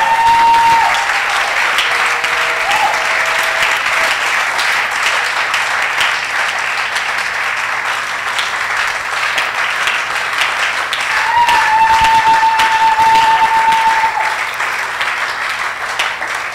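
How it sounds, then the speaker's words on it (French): A church congregation applauds and cheers for the Lord, a dense, loud, unbroken wave of clapping lasting throughout, with faint sustained keyboard tones underneath. "Est-ce que quelqu'un peut acclamer le Seigneur?"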